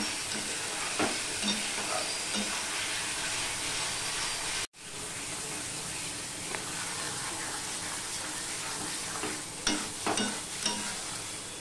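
Chicken being sautéed (kosha) in a pan for a yogurt chicken dish, a continuous loud sizzle and hiss with occasional stirring scrapes, briefly cut off partway through.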